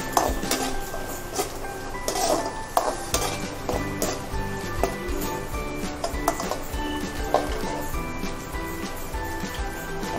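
Coconut and green chillies sautéing in a pan for a crab masala: a close, lively sizzle with frequent clinks and scrapes of a metal spoon against the pan, in an irregular stirring rhythm, and no voices.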